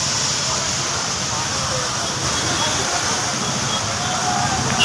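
Water gushes loudly and steadily from a burst pipeline on a road, a continuous broadband roar filling the scene without a break.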